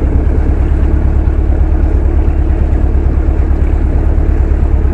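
A boat engine thrums loudly and steadily up close on an island-hopping trip from Sai Kung pier in Hong Kong, its low pulsing drone mixed with wind and water noise.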